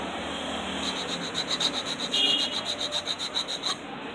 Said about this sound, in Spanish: Yo tengo esta lima, la uso de lija.